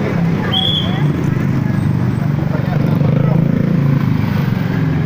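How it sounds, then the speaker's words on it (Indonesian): A motorcycle runs past a two-wheeler parking area in the old town of Semarang, a steady low engine drone under nearby voices and street bustle. "Ada pak motor."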